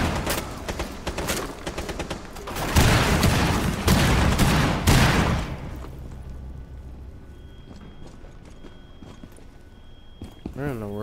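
Enemy gunfire in a shooter video game opens as a loud flurry of rapid shots, then thins to scattered reports and fainter game noise.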